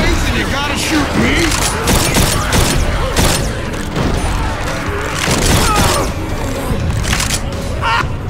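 Gunfire in the zombie shooter Left 4 Dead 2 crackles as rapid, loud bursts of shots and metallic clatter throughout, mixed with frantic voices shouting over the chaotic fight.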